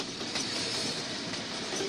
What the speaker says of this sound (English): the rumble of a passing train